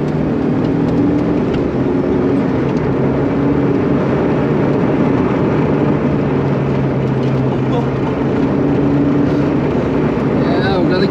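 Volvo 240 racing on the Nürburgring, its engine droning loudly and continuously from inside the car, with a steady tonal hum that shifts pitch slightly as revs change, over constant road and wind noise.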